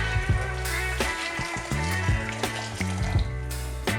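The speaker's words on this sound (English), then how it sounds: "To the pot we add a generous amount of boiled water from the kettle" Boiled water from a kettle pours into a cooking pot, a close, bubbling gurgle with shifting glugs and splashes that continues with small irregular surges, no talking.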